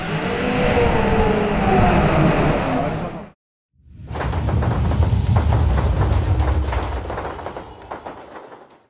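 Roller coaster ride, a loud rumbling rush of wheels and wind, a sudden brief cut to near silence, then a renewed roaring clatter that gradually fades.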